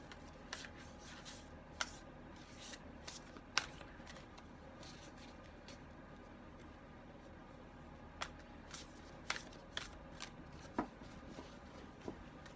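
Quiet, intermittent riffling and snapping of cards being shuffled, faint and close, with irregular bursts and pauses.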